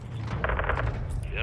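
A rapid burst of gunfire, several quick shots in a row, in the video game Modern Warfare 2, with a voice speaking over it.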